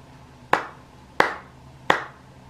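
Three sharp hand claps in an even rhythm, close and crisp, each with a short decay, with nothing else in between.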